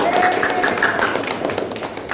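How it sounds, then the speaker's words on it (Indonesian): Applause for a student group in a classroom during a teaching performance assessment, a short burst of many hands clapping together, fairly close and fading slightly toward the end. "Tepuk tangan untuk kelompok A."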